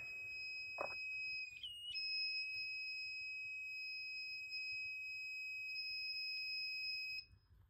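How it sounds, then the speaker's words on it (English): An active buzzer wired to an Arduino gives a steady, piercing electronic tone that starts as the board is plugged in, holds for several seconds close up, then cuts off, with a faint background hum. "So, okay, that's what an active buzzer does"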